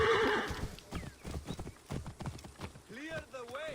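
Horses in Assassin's Creed Origins clop along in a steady run of hooves, and near the end they whinny in rising, wavering neighs. A voice talks faintly under the hooves.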